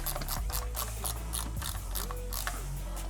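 Ratchet wrench cinching the bead lock on a dirt bike tube tire, giving a steady run of quick clicking strokes, close and fairly loud, over a constant low hum.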